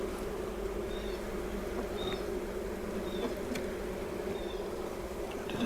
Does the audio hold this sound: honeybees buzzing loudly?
yes